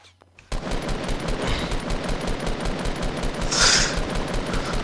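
Rapid automatic gunfire rattles almost without a break in the Fortnite Battle Royale video game, loud and dense, with a brief sharp burst standing out near the end.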